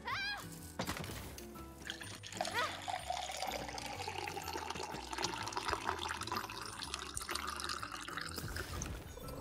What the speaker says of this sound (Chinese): 倒水声。